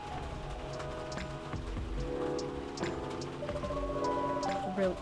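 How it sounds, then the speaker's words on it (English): Steady rain patters throughout with music-like tones layered over it, a continuous wet hiss filling the background, in the video game Coffee Talk 2: Hibiscus & Butterfly. "The rain is really loud."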